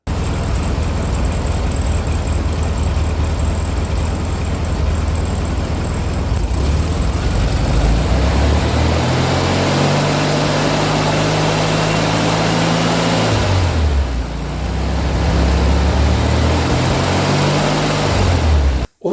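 The engine of a VW Beetle runs steadily throughout, a loud, close, low rumbling drone that briefly rises in pitch and dips again midway, with no talking.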